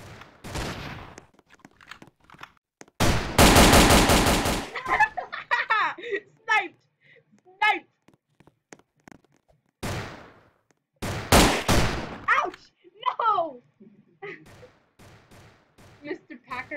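Heavy gun in a video game firing a dense burst of rapid shots, loud and close, followed later by a second burst, with people talking and laughing around the gunfire.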